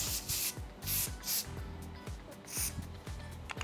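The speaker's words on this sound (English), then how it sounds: "So this is a makeup spray and you have to apply it from little far." Several quick hissing spray bursts from a pump mist bottle, spaced about half a second apart, close and crisp.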